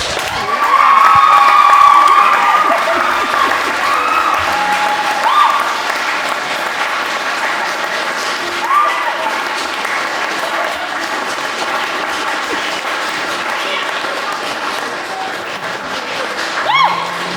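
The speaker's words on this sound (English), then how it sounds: "And the crowd goes wild." Wedding guests at a ceremony break into loud applause and cheering right after the couple's first kiss, a dense, sustained crowd roar with whoops that peaks early and then holds steady for about seventeen seconds.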